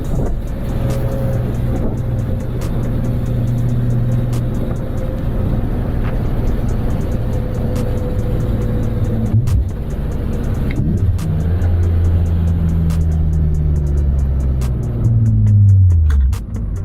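Car driven after lubricating squeaks with silicone spray, the engine humming steadily inside the cabin with low road rumble, pitch dipping and climbing through gear changes and a brief knock midway.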